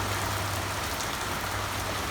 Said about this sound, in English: This is like a downpour.